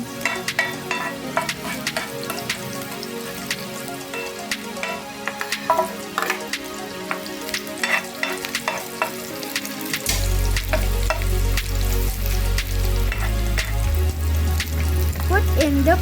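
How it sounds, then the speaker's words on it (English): Garlic and onions sauteing in cooking oil for pork pochero, a steady crackling sizzle with clinks of stirring, joined near the end by a louder, denser frying hiss. "remove some cooking oil and saute garlic and onions"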